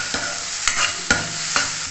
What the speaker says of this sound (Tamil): இதை நல்லா வதக்கிக்கிடுவோம்.